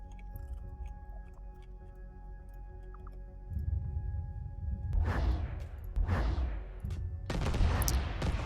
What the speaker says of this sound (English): We're just going to bomb this planet out of existence.